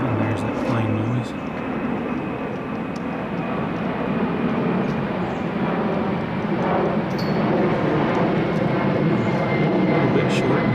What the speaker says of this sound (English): there's that plane noise